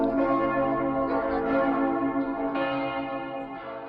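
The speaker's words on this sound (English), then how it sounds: "Those beautiful bell chimes come to us from the Matthias Church." Church bells of the Matthias Church in Budapest ring out in a rich, sustained peal, the overlapping chimes swelling and layering continuously with no voices.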